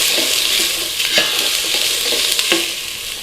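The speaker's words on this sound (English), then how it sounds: "Quick stir." Garlic and onions sizzle loudly in a frying pan while being stirred, a steady bright hiss with a few scraping knocks of the utensil, close up and with no voices.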